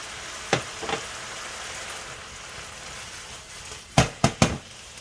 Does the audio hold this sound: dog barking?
no